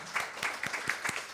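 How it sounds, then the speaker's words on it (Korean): A church congregation claps during a Wednesday worship service, a brief burst of applause in a few uneven waves. "우리 하나님께 영광의 박수 올려드리겠습니다."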